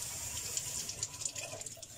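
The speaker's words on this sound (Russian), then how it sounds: "наливаете сюда водички" Water poured into a glass jar of sprouting microgreen seeds, a steady splashing, gushing stream that runs close and continuous throughout, with no voices.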